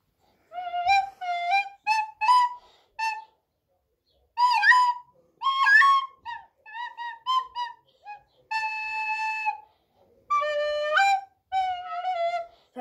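Recorder playing the tune British Grenadiers, clear close piping notes in short melodic phrases separated by brief pauses, heard alone without any talk.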